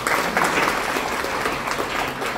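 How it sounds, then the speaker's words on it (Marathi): An audience at a talk on essay writing claps together, a dense, steady burst of applause that fills the whole moment, close and fairly loud, with no speech over it. "एकमेकांसाठी सगळ्यांनी एकदा टाळ्या वाजवा"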